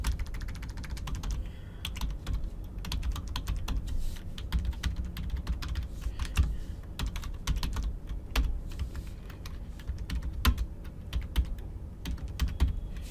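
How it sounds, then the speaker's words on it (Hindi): Continuous clicking of a computer keyboard as information is typed into a landing page form, steady close-up keystrokes with a low background hum and no talk. "यहाँ पे मैं इन्फॉर्मेशन डालता हूँ, सपोज विक्की लालवानी"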